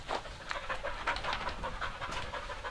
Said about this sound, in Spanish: Mira, los perros. Se reencontraron los perros.